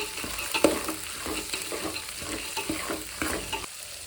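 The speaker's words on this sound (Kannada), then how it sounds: "ಇದ್ಕಿದ ಬೇಳೆ ಹಾಕ್ಬಿಟ್ಟು ಚೆನ್ನಾಗಿ ಎಣ್ಣೆಲಿ 1-2ರಿಂದ 3 ನಿಮಿಷ ಚೆನ್ನಾಗಿ ಹುರಿಬೇಕು" Lentils fried in oil in a pan for a Kaima sambar, a continuous close sizzle with scraping stir strokes and a few soft knocks from the spoon, no voices.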